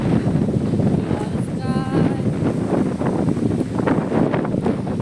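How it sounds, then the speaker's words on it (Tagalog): Strong wind buffets the microphone outdoors on an island at Balabac, a steady loud broadband roar throughout with faint voices underneath. "Lakas ng hangin naman."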